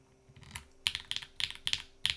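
Close, clacky presses on the spacebar of a Void65 mechanical keyboard without feet, a handful of sharp key strikes coming in small clusters, quiet in between.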